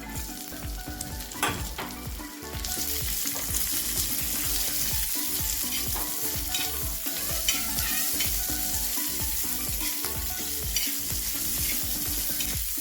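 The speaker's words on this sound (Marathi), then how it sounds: "अद्रक लसूण त्यात टाकून घ्यायचं आणि व्यवस्थित तळून घ्यायचंय." Ginger and garlic frying in a spoonful of oil for a village-style chicken dish, a steady close sizzle broken by repeated scraping stirs, with no talking.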